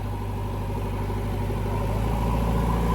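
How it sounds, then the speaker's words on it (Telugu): A heavy diesel JCB excavator engine runs steadily nearby at a site where a tractor is stuck, a low continuous throbbing drone with no talking. "జేసీబీ కూడా వచ్చేసింది ఇక్కడికి"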